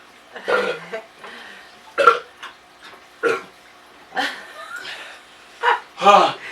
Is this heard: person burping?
yes